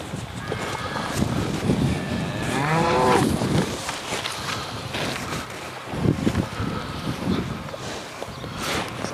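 Polled Charolais heifers low and moo on a farm, with one clear drawn-out call near the start and further softer lows, close by under a steady outdoor wind rumble.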